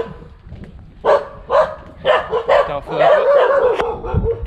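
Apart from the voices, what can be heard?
dogs barking on Monkey Mountain, Thailand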